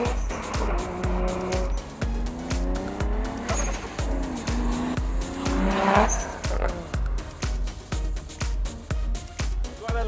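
Turbocharged car sliding sideways with tires squealing loudly in long wavering screeches over a rhythmic, pulsing engine note, close and continuous throughout.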